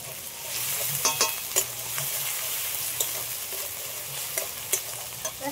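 Cumin and ginger paste hitting lightly fried onions in a hot pan, a steady loud sizzle broken by several sharp scraping stirs of a spatula, close up with no talking.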